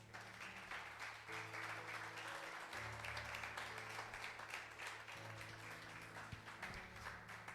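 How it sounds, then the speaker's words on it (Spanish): A church congregation applauds during a Spanish-language sermon, a sustained, even patter of many hands clapping together. It sounds faint and distant and runs unbroken for several seconds. "Dale un aplauso al Señor."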